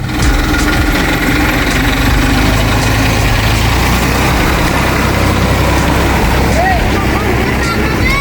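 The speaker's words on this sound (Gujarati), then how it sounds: "વિષ્ણુભાઈ ટ્રેક્ટર લઈને આવી રહ્યા હા" A tractor engine runs loud and steady at close range, a continuous rumbling drone without a break.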